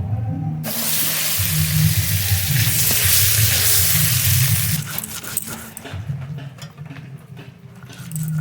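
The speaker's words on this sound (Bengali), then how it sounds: "মাছের যে ডিমটা বেরিয়েছে ডিমটাও ভেজে নেবো" Fish roe frying in hot oil in a home kitchen, a loud continuous sizzle that holds for several seconds, then cuts off and leaves quieter clinks and faint crackling.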